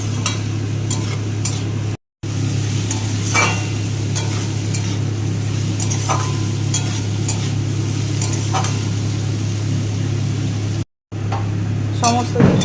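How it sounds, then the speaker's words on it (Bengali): Mixed ingredients, including chopped carrot, stir-fried together in a pan, giving a steady sizzle with scraping, stirring clinks running throughout at close range, broken by two brief silent gaps. "সমস্ত উপকরণ দিয়ে দিয়েছি, এবার এগুলোকে ভালো করে একসাথে ভাজবো।"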